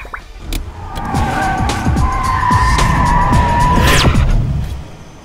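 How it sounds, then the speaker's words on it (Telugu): A car skids loudly while being turned around in a Telugu movie scene: a sustained, close tyre screech rises over engine roar and swells toward the end before fading, with no talk. "జాన్సన్ కారు వెనక్కి తిప్పుతున్నారంట ఫాదర్."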